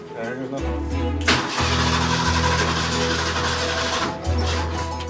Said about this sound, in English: we're putting gas in the truck, and we're about to fire her up